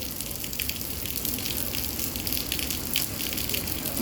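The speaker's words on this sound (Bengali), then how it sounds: "ধীরে ধীরে বৃষ্টি বইতেছে।" Steady rain falling in Dubai during a windy storm, a constant dense wash of water noise, fairly faint and even throughout without speech.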